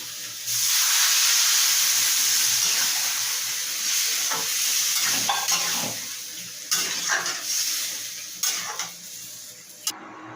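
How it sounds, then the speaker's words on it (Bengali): Jackfruit curry with potatoes and spices sizzles and hisses loudly in a pan as water is poured in, the steady frying hiss broken later by a few clinks and stirring knocks. "এরপর আমি এটা জল ঢেলে সিদ্ধ করতে দেব।"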